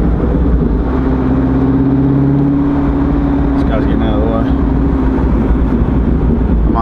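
A Corvette C6 Z06 with a 7-liter V8 accelerates hard from a standstill on a frozen road, a loud, steady engine roar with rising pitch filling the cabin throughout, voices faintly present.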